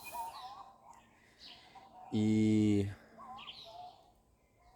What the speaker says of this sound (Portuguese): esse sonzinho que você tá escutando atrás é provavelmente do pássaro tó